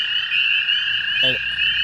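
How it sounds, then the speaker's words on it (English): A dense wetland chorus of toads and spring peepers on an early May night keeps up a loud, continuous high-pitched trilling, with one brief lower croak standing out near the end. "There are like hundreds of toads in this single wetland."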